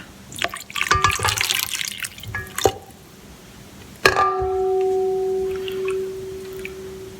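About a cup of water poured into a dough mixture with oil for Lebanese meat pie (fatayer) dough, a close, splashy trickle for a few seconds, then a steady ringing tone as the bowl settles.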